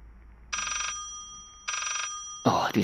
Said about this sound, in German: Oh, dieses verfluchte Telefon,